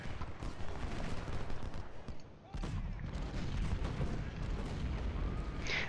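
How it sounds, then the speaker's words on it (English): Artillery and rifle fire in Ultimate General: Civil War during a Confederate battle on Cedar Mountain, a dense, continuous barrage of booms and crackling shots with a brief lull midway before the volleys resume. "Keep hitting them with artillery"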